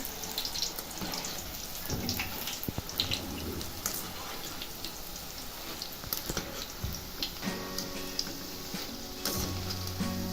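Boondi sizzles and bubbles in hot oil, a busy crackling with scattered clicks and taps from utensils, fairly quiet and close.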